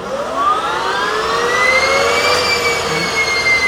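A Helicycle kit helicopter's turbine engine starter spins up close and loud, a steady roar topped by rising whining tones that climb and hold as the turbine gains speed, with no voices.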